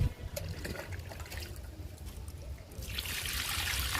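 Water trickles and splashes steadily onto an amaryllis plant in a home garden, a close, continuous pouring wash that grows louder and brighter toward the end.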